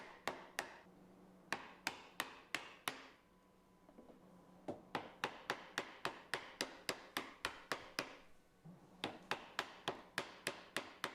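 A chisel struck on hard maple wood for a table: a steady series of sharp, close taps in quick regular bursts with brief pauses, alone and quiet overall.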